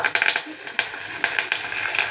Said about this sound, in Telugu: కరివేపాకు వేసానండి